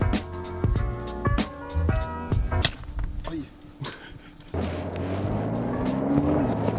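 A Porsche race car leaves the pits on a race circuit. Its engine revs hard in quick, repeated bursts as it shifts gears up close, then settles into a steady, loud drone.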